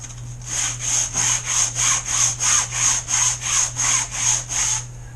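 A 3D-printed PLA part being scuffed with abrasive, about eleven even rasping strokes in a steady back-and-forth rhythm, close and loud with a faint constant hum underneath.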